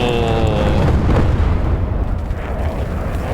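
Bombs exploding in the PC tank game Gunner, HEAT, PC, as a BMP-2 fighting vehicle comes under air attack: a loud, continuous rumbling roar of blasts and debris, with a fading whistling tone at the start and no speech.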